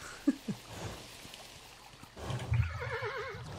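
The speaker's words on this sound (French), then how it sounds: "Ah, mon cheval veut plus courir" Horse whinnying in the video game Kingdom, a wavering neigh rising over soft trickling game ambience after a couple of brief knocks, moderately loud and with no talking.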